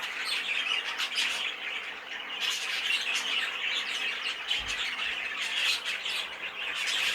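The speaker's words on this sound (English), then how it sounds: "this bird I think is a heavily variegated buff." Heavily variegated buff canary squawking inside a show cage, a continuous busy stream of harsh calls and chirps held at a steady level throughout.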